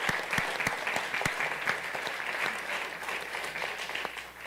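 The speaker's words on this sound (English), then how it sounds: "So let's give a great big round of applause to those 17 organizations." Audience at an evening community event applauds steadily for several seconds, a dense patter of clapping hands that stays fairly even before tapering slightly.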